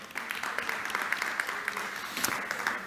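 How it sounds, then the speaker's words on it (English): An audience applauds a panel at a cybersecurity conference: steady, fairly soft clapping from a crowd, continuous for a few seconds with no clear talk. "On les applaudit encore une fois."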